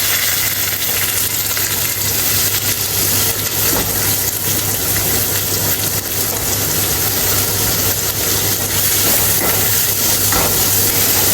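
Curry leaves and chopped onion dropped into hot oil for an elephant foot yam dish give a loud, steady, close sizzle and crackle that runs unbroken for the whole stretch, with no voices.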